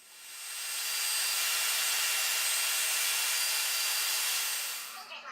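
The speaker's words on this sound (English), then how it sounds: "Using my bandsaw, I cut the profile on one side of the template" A bandsaw cuts the profile of a wooden template, a loud, even rushing hiss that swells in, holds steady for about four seconds and fades out.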